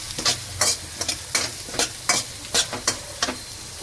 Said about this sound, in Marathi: आणि हा कांदा. चला हे आपण ठेवलेलं, हे आपण परतवून घ्यायचं जरा व्यवस्थित